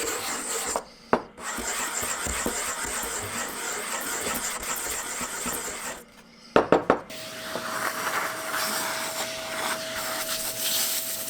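Nub sander working a wooden maze pocket in a puzzle box, a steady buzzing, rasping drone close up with a few knocks and a short pause, followed by a changed, higher-pitched sanding tone.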